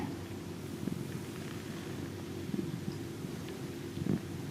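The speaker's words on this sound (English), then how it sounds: "See if you can hear any little purrs." A cat purrs softly and steadily up close, a low, faint rumbling with gentle rhythmic pulses, while a brush rustles lightly through its fur.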